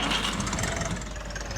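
A tractor engine idling in the farming game Agricultural Simulator 2013, a steady mid-pitched rumble heard close and alone.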